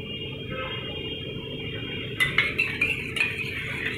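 A spoon stirring curd into Amul milk in a bowl, a few light metallic clinks and scrapes in the second half, close and clear over a low steady background hum.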